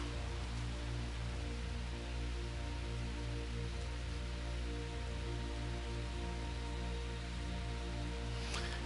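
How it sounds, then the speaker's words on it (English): Steady rain falls in the Minecraft video game, a constant wash of hissing droplets with a low rhythmic background hum, even and continuous throughout with no voices. "See, it's raining again."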